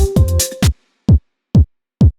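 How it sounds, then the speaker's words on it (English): A four-on-the-floor house kick drum for 90s UK organ house, first under a busy burst of other sound, then three punchy, evenly spaced kicks standing alone with clean gaps of silence between them. "So 4/4 kick, which sounds like this."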